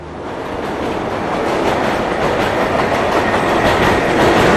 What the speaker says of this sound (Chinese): 这是美国的地铁站